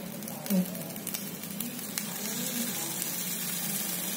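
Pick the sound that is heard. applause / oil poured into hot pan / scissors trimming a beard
oil poured into hot pan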